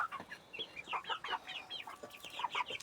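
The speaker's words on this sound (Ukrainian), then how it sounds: "Курочка, мабуть, ні, дві курки і один півень." Several Leghorn chickens, two hens and a rooster, cluck and chatter in quick, overlapping bursts close by, a busy little flock with no other sound.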